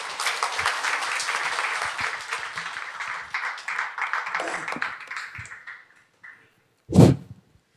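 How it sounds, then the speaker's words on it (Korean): An audience welcoming a speaker to the stage at a Buddhist memorial lecture applauds steadily for about six seconds, then the clapping fades out, and a sharp thump or tap follows near the end. "박수로 맞아 주십시오."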